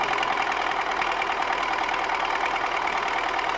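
The diesel engine of an MTZ-80 tractor, which has a knocking fault and has just had its injectors replaced, runs loud and steady at close range with a dense, even clatter and no voices.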